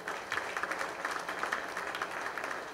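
Audience applause fills a hall during a speech at a DMK higher education guidance event, a steady, moderately loud patter of many hands clapping together, with no voice heard over it.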